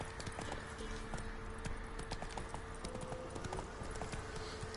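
Roach the horse galloping in The Witcher III, hooves clip-clopping in a fast, steady rhythm, moderately loud and continuous with no talk.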